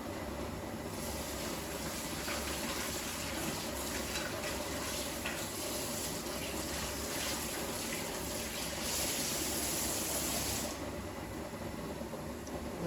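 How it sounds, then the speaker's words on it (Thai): Stingray fish rinsed under running water before frying, heard as a continuous loud rush of tap water splashing over the fish, steady and close throughout. "ล้างก่อนเด้อก่อนทอดต้องล้างก่อนเด้อ"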